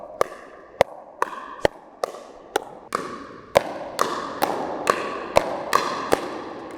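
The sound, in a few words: pickleball paddles hitting ball in rapid volleys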